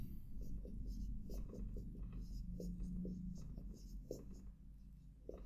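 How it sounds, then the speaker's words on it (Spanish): Pen or marker writing on a board during a Spanish-language polynomial math lesson, with soft rhythmic scratching strokes that pause and resume, close and faint, with no talk over it. "Lo escribo."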